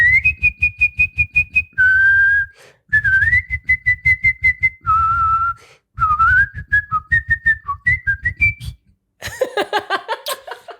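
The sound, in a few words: person whistling the Queen of the Night aria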